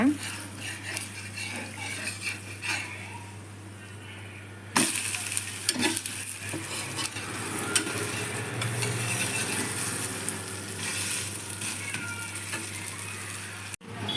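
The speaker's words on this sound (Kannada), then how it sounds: "ನೋಡಿ ದೋಸೆ ಕಾಯ್ತಾ ಇದೆ." Dosa cooking in oil on a hot pan, with a steady sizzle and scattered scraping and clinking of a utensil against the pan, a sharp bump partway through.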